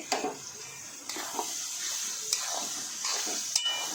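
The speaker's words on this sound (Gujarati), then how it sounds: "હવે તેમાં આપણે આદું અને લસણની પેસ્ટ નાખીશું આ રીતે" Soft, steady sizzling of onions frying in butter, with a few scraping stir sounds from a spoon against the pan.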